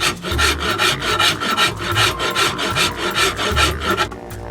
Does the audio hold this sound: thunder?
no